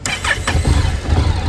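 A nearly new 2025 Honda NC 750X DCT motorcycle with a fresh, unbroken-in engine cranks and fires up close by, settling into a steady rumbling idle, with a construction excavator working in the background.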